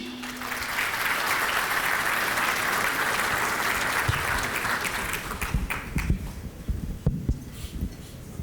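Audience applause welcoming Mossadegh Bali as he comes up to receive the African entrepreneur of the year award, a dense steady wash of many hands that swells, holds, then breaks into scattered louder claps before thinning out.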